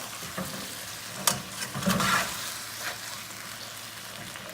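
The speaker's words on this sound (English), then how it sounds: "So you just want to just lift it and turn it, which is why you kind of need a flat-bottom spatula or a nice big spoon." Mabo tofu with turkey sizzling in a pan as it is lifted and folded with a flat-bottomed spatula: soft continuous frying hiss with occasional scraping and clinking, close and fairly quiet.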